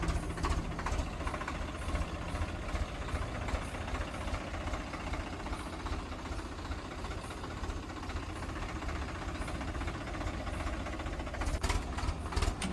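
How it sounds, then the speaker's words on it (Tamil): A steady tractor diesel engine drones and rumbles continuously during a rescue from mud, with a knocking idle throb and no voices. "இன்னொரு டிராக்டர் கொண்டு வந்து இரும்பு ரோப்பால் அந்த டிராக்டரை கட்டி இழுக்க போகிறாங்க"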